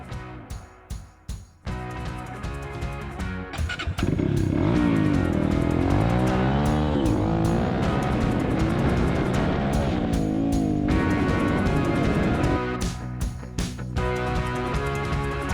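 A Honda CRF230F dirt bike with new fork springs and gold valve emulators rides a sandy track, its engine loud and close, revving up and down in rising and falling pitch sweeps over steady droning.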